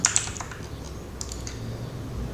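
Quick keystrokes and clicks on a computer keyboard during copying and pasting of data, a few sharp taps at the start, then scattered lighter clacks over a soft background hum.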